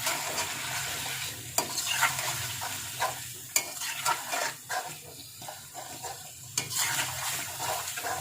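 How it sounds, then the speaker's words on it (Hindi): Spices with Kashmiri red chili and black pepper fry in oil in a pan for chicken aloo masala, giving a steady close sizzle broken by several sharp scrapes and clacks of stirring. "तो इसको करते हैं फ्राई"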